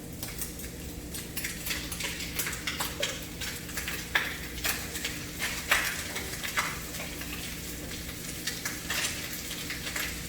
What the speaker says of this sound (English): I'm going to throw in my leeks and my spinach,